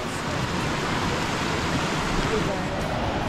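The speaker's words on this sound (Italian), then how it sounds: "E qui siamo alla cascata." Waterfall at the springs of the Mae in Val di Zoldo, a steady, loud broadband rush of falling water filling the whole clip without a break.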